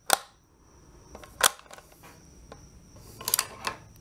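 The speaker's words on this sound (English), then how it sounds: "that action is just as slick as you would expect a Mauser action to be." The bolt action of an FN Supreme Commercial M98 Mauser rifle is worked in a quiet room, giving a few crisp metallic clacks and clicks spaced a second or two apart, with softer sliding sounds between.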